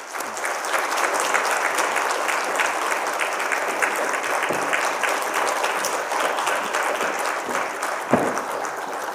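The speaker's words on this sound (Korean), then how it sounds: "박수로 맞이하겠습니다." Congregation applauding at a Wednesday evening church worship service, sustained even clapping from a crowd filling the room, with a couple of louder thumps near the end.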